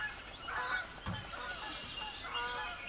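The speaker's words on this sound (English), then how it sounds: "Oh my gosh, more geese." A group of geese honks repeatedly outdoors, calls overlapping at moderate distance with steady natural background around them.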